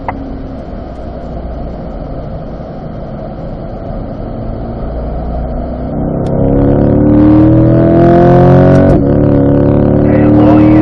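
A C8 Corvette engine pulls hard on a race track at a performance driving school, a loud close drone that rises in pitch as it accelerates, with upshift breaks near the end.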